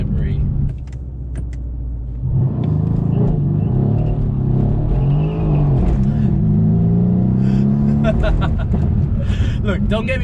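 A Mercedes-AMG C63 S Edition 1 pulling away from a launch, its engine rising in pitch as it accelerates, mixed with cabin rumble and a person talking over it.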